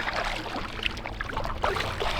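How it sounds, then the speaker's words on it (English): Paddle strokes splash and trickle through the water as a small boat crosses a Scottish loch, a steady run of close, wet dips with no talking. "Right then, so time to make the paddle back to Lochs."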